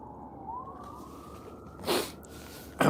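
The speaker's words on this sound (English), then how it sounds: "You guys hear the sirens? Woo, woo, lots of sirens." Emergency vehicle sirens wail faintly in the distance as a thin, rising and falling tone, broken by a couple of loud, close sniff-like bursts.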